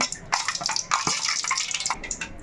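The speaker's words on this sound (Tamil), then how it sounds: "லைட்டாக தண்ணி போட்ட உடனே இந்த மாதிரி சத்தம் நல்லா சூடாக இருக்குது" Hot oil for frying chicken bonda crackles and sizzles as a little water is added, a burst of bright spattering pops, close up and lively, with no voices.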